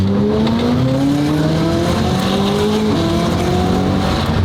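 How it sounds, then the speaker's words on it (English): A loud sports street car engine revs up steadily on a street, pitch climbing through gear changes as it accelerates hard, roaring continuously and close by. "This thing's so, it hits the speed limit so quickly. This thing sounds insane."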